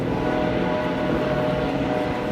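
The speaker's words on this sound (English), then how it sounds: "Stupid helicopter." A helicopter drones over central Melbourne near the National Gallery of Victoria, a loud, steady engine-and-rotor hum with tonal bands that holds constant throughout, with no voices.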